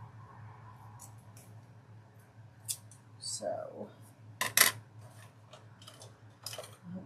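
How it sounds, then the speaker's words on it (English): Curved scissors snip through floral basket decor material in several sharp, close metallic cuts spread irregularly over the clip, with a brief spoken word near the start and quiet background hum. "have to use my curved ones"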